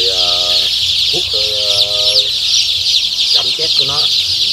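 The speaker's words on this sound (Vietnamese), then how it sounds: "Mình lùa này con gà dịp sốc lắm." Three-day-old chicks being herded, giving dense repeated high cheeping with louder peeping bursts, under steady background noise and a low hum, close by.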